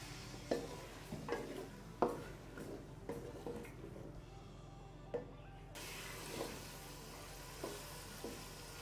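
Half a kilo of chicken pieces with garlic-ginger paste frying in a pot for Sindhi biryani, a steady soft sizzle with periodic scraping stirs and clunks of a spoon, fairly close and quiet, no talking.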